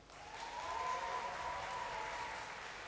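Crowd applause at a StarCraft II esports semifinal in Ukraine, a steady broad wash of clapping that rises and holds for a few seconds without talk.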